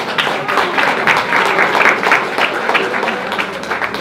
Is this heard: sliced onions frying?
no